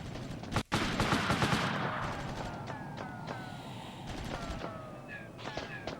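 Gunfire in the PlayStation war game Army Men: Land, Sea, Air: a dense fusillade of sharp, close shots and rapid bursts, tapering into scattered cracks and high ricochet whines.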